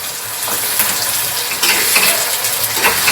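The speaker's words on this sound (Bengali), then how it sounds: "এটাকে এবার ভালো করে কষে নিতে হবে তেলেতে" Spice paste fries and sizzles in hot oil while being stirred for an egg and red lentil dish, a steady crackling hiss broken by repeated scraping strokes, close and loud, with no talking.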